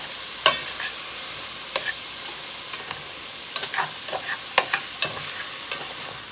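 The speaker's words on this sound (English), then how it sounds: "Now we're going to do our 1 bell pepper and onion. Okay, we want to get these sauteed." Bell pepper and onion sautéing in a pot, a soft steady sizzle with scattered light clicks and pops of stirring spread across the stretch, faint and close, with no talking.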